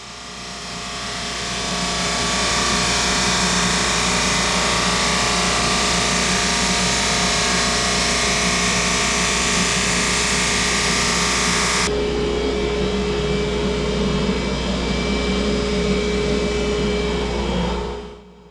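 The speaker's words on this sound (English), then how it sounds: "Here I run these through my Jet drum sander." A Jet drum sander feeds thin ripped lumber through, giving a loud steady mechanical roar with a low hum that holds for about twelve seconds. It then drops to a lighter whirring run before winding down at the end, with no talk.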